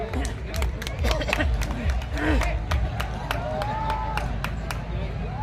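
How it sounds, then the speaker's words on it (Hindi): Applause from an audience welcoming a guest on stage at a Hindi poetry event: many hands clapping fast and steadily for several seconds, mixed with crowd murmur. "जरा जोरदार तालियां एक बार आप लोग बजा दीजिए"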